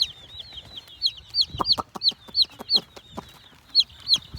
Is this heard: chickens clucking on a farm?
yes